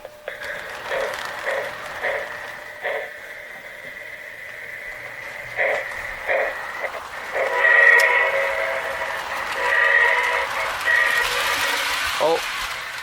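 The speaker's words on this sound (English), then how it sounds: "the trains run a lot more smoothly" A small model train hums and clicks steadily along its track, with a high whistle-like tone near the end and a brief voice in the background.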